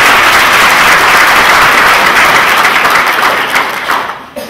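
A large ceremony audience gives sustained, loud, dense applause for the Navy Honor Guard from the Navy School of Health Sciences, Portsmouth, at a Navy graduation, the clapping tapering off near the end with no talking.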